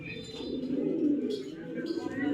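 A male white racer pigeon in a pigeon loft gives a steady, low rolling coo for a couple of seconds, close by and continuous, with a voice speaking faintly in the background.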